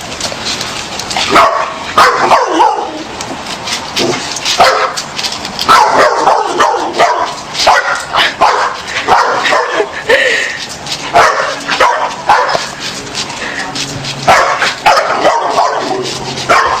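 A dog barks and yips excitedly in quick, irregular bursts throughout, close by, with occasional whimpers and a person's voice mixed in.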